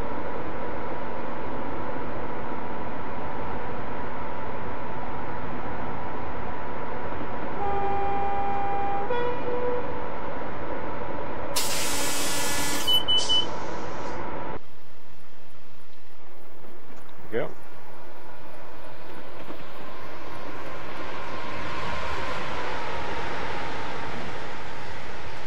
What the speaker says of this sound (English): we'll go ahead and do a quick train by